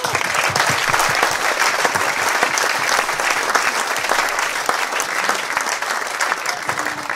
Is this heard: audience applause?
yes